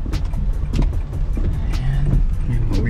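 A car driving out through heavy typhoon rain and flooding in the Philippines, the engine hum steady and close with repeated splashing bursts and a faint voice in the background.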